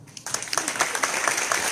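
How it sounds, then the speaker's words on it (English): Applause from the audience at a tech meetup on open security, clapping swelling after a quiet start into a full, sustained burst of many hands nearby. "I would say a big applause to them."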